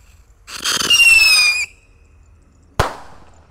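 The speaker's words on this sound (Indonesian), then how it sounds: "Lanjut di sini ada roket pirotor. Langsung kita nyalakan." A pyrotechnic rocket firework whooshes up with a rising whistle for about a second, then after a short pause a single sharp, loud bang as it explodes, with no talking.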